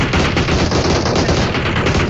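Rapid automatic gunfire in the battle royale game PUBG Mobile, a dense continuous burst of close, loud shots with no talking.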